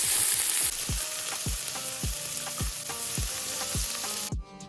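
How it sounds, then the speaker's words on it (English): Chopped red and white onions sauté in hot oil or ghee in a kadai, a steady loud sizzle with regular stirring scrapes every half second, ending abruptly. "saute 2 large sized chopped onions until they are translucent"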